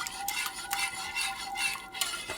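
Creamed dried beef being stirred in a pan: a steady, soft scraping and rubbing of a utensil against the cookware, close and continuous, with a few brighter clinks and no talk.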